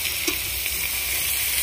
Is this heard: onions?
yes